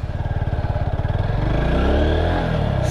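A motorcycle pulls away and accelerates, its engine pulsing rhythmically and then rising in pitch as it revs up, close and loud.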